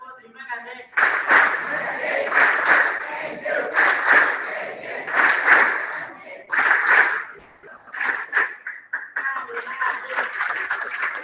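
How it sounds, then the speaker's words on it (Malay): Children at the Asrama Kasih hostel clap in rhythmic bursts during an alumni care campaign launch. The claps come in patterned groups mixed with shouted chanting voices, pausing briefly between rounds. "kita dengarkan dulu tepukan daripada adik-adik kita di Asrama Kasih"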